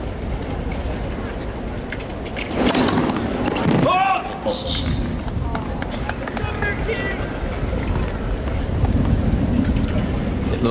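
Gusty wind buffets the microphone at an outdoor tennis court during a US Open match, a steady loud rush under commentary, with brief swells and a short whistling gust.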